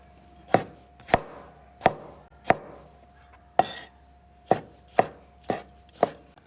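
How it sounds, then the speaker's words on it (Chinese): A knife chops tomatoes on a board for a hotpot broth, nine sharp, evenly spaced strokes close by, with no talk over them and a steady low hum underneath. "切点西红柿"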